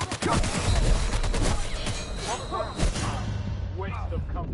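Rapid gunfire in The Outer Worlds video game, a loud burst of shots up front that thins into scattered hits, with a voice speaking over the later part.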